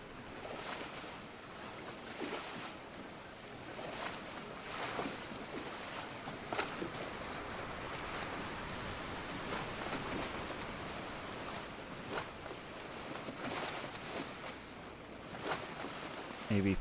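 Sailing ship in the Sailwind game riding ocean waves, a soft steady wash of water and wind with periodic swells breaking, faint and continuous.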